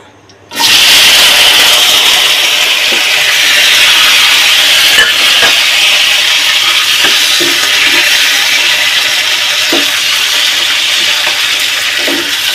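Onions hit a hot pan with a sudden loud sizzle that holds as a steady, bright hiss of frying, close and dominant for the rest of the clip.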